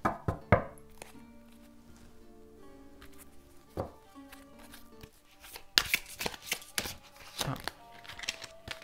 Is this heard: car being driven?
no